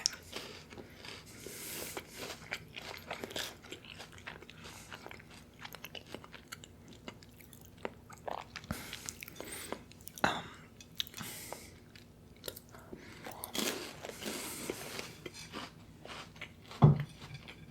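Close, crisp biting and crunchy chewing of food in a whispered ASMR setting, with irregular crunches and softer mouth sounds spread across the clip, one sharp bite near the end.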